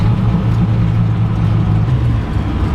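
A Datsun 240Z S30 engine running with a deep, steady exhaust drone, loud and close, holding a low rumble with no talk over it.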